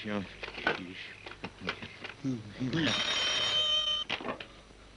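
In a 1968 Iranian film, a telephone bell rings continuously for over a second right after people talk. It is heard clearly in the middle of the scene, with brief voices before and after it.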